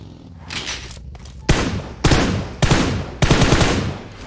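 Gunfire in the PUBG Mobile battle royale game, several sharp loud shots spaced about half a second apart, each with a short rumbling tail.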